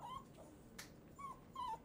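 A dog available for adoption from a county dog warden's shelter whimpers in three short, high-pitched whines, close and fairly clear against quiet room noise.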